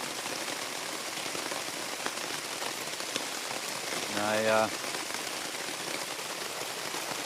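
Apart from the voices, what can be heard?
heavy rain falling on campsite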